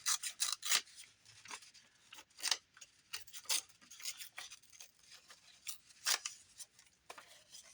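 A paper page from a prayer book is torn in several short, crisp rips, close and fairly quiet, with brief pauses between bursts.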